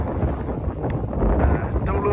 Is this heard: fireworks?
no